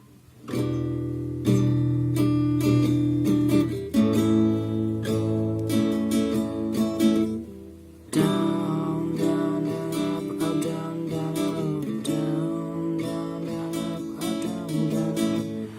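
Acoustic guitar strummed in a steady pattern, rich ringing chords with a brief pause midway before the strumming resumes, played close and alone.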